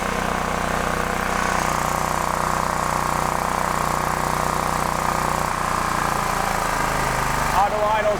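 A DuroMax XP13000HXT tri-fuel generator engine idles with a constant loud, even drone that runs the whole time and shifts slightly in tone near the end.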